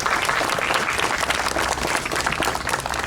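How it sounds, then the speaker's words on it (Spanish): An audience gives a dense, steady round of applause for the speaker Javier after a talk on ancient Lima, loud and close throughout. "un aplauso para Javier por toda la exposición"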